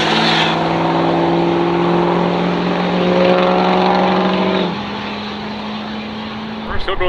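Powerstroke diesel flatbed truck roaring at full throttle in a drag race, a loud sustained engine drone that drops in pitch as it shifts, with a commentator talking over it.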